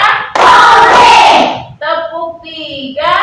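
A class of students performs a rhythmic clapping pattern during an Indonesian primary teacher-training lesson, a dense burst of claps followed by voices chanting together in the classroom.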